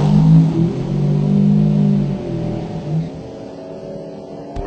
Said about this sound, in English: Most of these Lightning trucks are supercharged right from the factory.